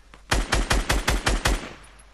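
Automatic gunfire in the video game Fortnite, a quick burst of about seven loud, evenly spaced shots with a short fading tail, no speech.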